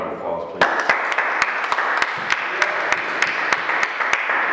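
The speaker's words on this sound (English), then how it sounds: "Round of applause, please." A live studio audience claps steadily for several seconds, with sharp individual claps standing out over a dense, loud round of applause.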